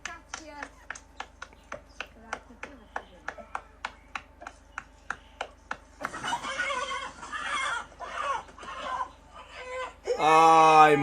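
A chicken being chased clucks in a fast, evenly spaced series of sharp squawks, then breaks into louder frantic cackling and a long screech, with people talking over it.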